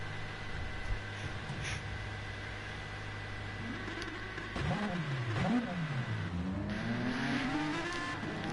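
Race cars pull out of the pits in GT Sport at the Kyoto circuit, engines droning steadily and then revving up in rising and falling sweeps as several cars accelerate away, heard over a constant hum.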